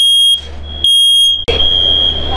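A smoke alarm goes off aboard a boat, a loud steady high-pitched electronic tone that cuts out briefly twice and sounds again, with nobody talking over it.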